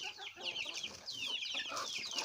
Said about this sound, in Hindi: मुर्गियाँ बहुत शौक़ से खा रही हैं दोस्तों